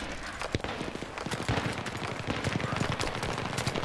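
Dense gunfire in Battlefield 3 on Operation Metro: rapid, overlapping automatic bursts and single shots crackle loudly and continuously from start to finish, with no talk.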